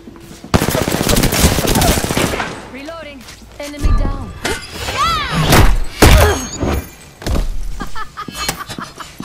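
Machine gun fire in a video game: rapid bursts of automatic shots crackling at the start, then scattered heavy thuds and game sound effects, with voices talking and calling out over the action.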